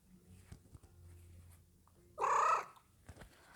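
A pet cat purrs softly and faintly through the first half, then lets out one short, loud, tonal cry before quieting to low purring again.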